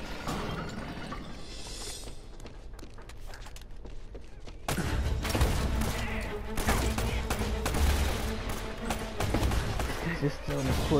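Shotgun fire in the Uncharted action game: a fast run of sharp, loud blasts and impacts that grows louder and denser halfway through, mixed with other game noise and voices.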